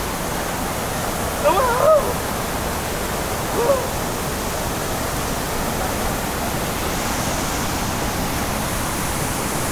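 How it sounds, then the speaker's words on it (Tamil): Water cascading down a waterfall in the flooded Noyyal river at Tiruppur, a steady, dense roar that holds evenly throughout with no talk, broken only by a couple of brief faint clicks near the start. "திருப்பூரில் இப்படி ஒரு அருவி இருக்குன்னு யாருக்கும் தெரியாது"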